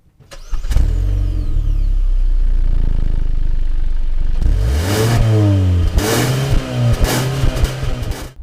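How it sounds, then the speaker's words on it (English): A 2019 Hyundai Elantra's 2-liter 4-cylinder exhaust rumbles loudly at idle, then the engine is revved several times in quick bursts, each rising and falling back. "let's go to the back and get a nice exhaust clip"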